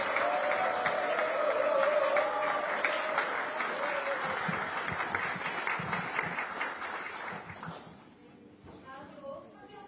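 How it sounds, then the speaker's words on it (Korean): Dense applause from an audience at an outdoor Democratic Party political rally in Yeonggwang County, South Jeollanoma, strong at first and then thinning out, with a speaker's voice over the sound. "여기 계신 우리 전남 출신 국회의원님들께 박수 한번 보내주시기 바랍니다."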